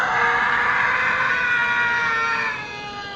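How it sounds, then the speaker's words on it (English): A man screams at the top of his lungs among trees in the woods: one long, loud, raw cry that holds for about three seconds before easing slightly at the end, with no talk around it. "He then screamed at the top of his lungs."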